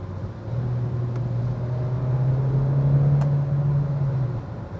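A 2023 Kia K5 hybrid car drives in normal mode, a steady low engine and road drone rising gently through a slow gear shift, heard from inside the cabin with no talk.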